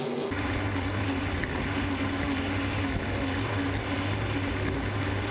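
Hydro350 hydroplane racing boats at a St Félicien consolation race roar steadily and loudly throughout, a continuous engine drone with no speech.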